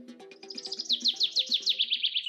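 A bird in Colombia's coffee-growing region sings a quick series of bright chirps, rising into rhythmic repeated tweets, close and clear with no other sounds.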